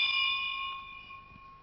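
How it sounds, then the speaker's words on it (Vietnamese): A bell hung at the entrance of a Hindu temple in Mauritius, struck once with a bright metallic ring that sustains and slowly fades, no voices over it. "Để báo trước cho các vị thần biết về sự viếng thăm của mình, cho họ khỏi giật mình, cần phải gõ một hồ chuông treo vào lối vào"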